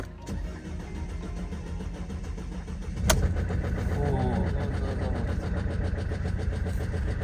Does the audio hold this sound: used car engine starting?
yes